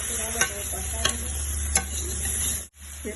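Green chillies and bay leaves fry in hot oil in a pan, a dense close sizzle with a low steady hum beneath and a few sharp stirring scrapes, ending in a brief dropout.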